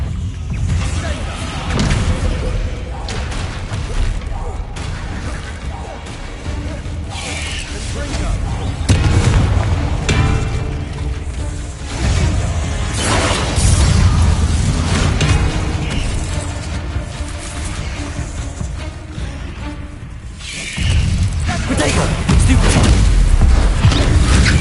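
Confringo and Bombarda spell blasts go off in a wizard video game, a series of loud booming explosions and crashing impacts over a dense, noisy background.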